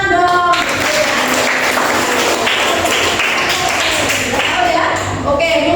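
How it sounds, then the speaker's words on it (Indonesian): A class of children in a classroom claps their hands together for several seconds, a steady loud patter of many hands, with voices mixed in. "Oke, tepuk tangan dong."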